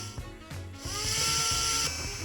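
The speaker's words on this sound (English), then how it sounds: "Then these screws will pop up and then you just use the drill." A power drill in the VR game I Am Cat drives screws in automatically: a steady, close whirring buzz that rises and holds for about a second and a half, with a few short mechanical clicks before it.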